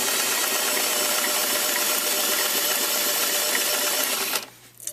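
A sewing machine runs a zigzag stitch over cording at a loud, steady, continuous hum with a rapid mechanical chatter, then stops abruptly just before the end.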